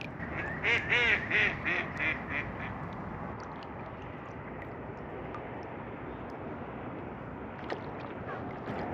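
Ducks quacking on the water, a short burst of loud, close quacks at the start that gives way to a steady outdoor wash, with one faint call later on.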